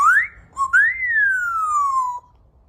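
A Macao parrot whistles a clear, rising then long gliding-down tone, loud and close, with a brief pause between two whistled phrases and no talking.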